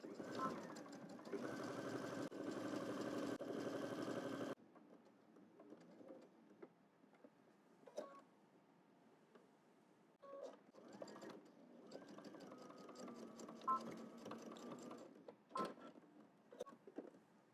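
A sewing machine stitches a seam at a 5/8-inch allowance, running loud and steady for about four seconds before dropping to quieter scattered handling noises and short mechanical bursts.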